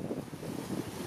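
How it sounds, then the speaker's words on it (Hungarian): Northeast wind at Lake Balaton buffets the microphone in a brief, low, rumbling gusty roar with no voices. "Ha innen fúj a szél, olyan észak-keleti szél fúj"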